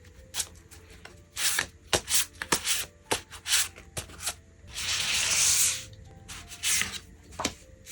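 Tarot cards shuffled and drawn by hand, with crisp flicks and slaps in uneven bursts and a longer riffling rush in the middle, close and clear with no talking.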